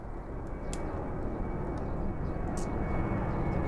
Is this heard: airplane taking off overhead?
yes